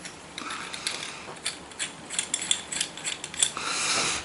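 A metal clamp being loosened to free a board from a table, giving a run of small ratcheting clicks and metallic ticks at close range, with no speech.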